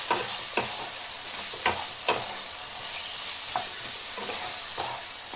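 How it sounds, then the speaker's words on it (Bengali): Fried potatoes being stir-fried with spices in hot oil, a steady sizzle broken by sharp scraping strokes of a spatula at irregular intervals, close and fairly loud with no talk. "আলুটাকে দিয়ে আমি এইভাবে কষিয়ে নেব"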